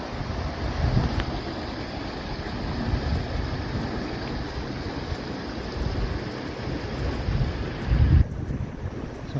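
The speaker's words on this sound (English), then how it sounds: "There's Rock Creek." Rock Creek on a summer trail in the mountains, a steady broadband rush of flowing water with gusty wind buffeting close by, continuous for the whole stretch with no voices.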